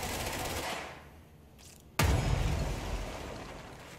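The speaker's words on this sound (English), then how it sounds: "What the fuck are you shooting at?" One sharp, loud blast from a weapon in The Foundation game breaks a quieter stretch of background hum and is followed by a lingering rumble, with a brief softer noise just before it.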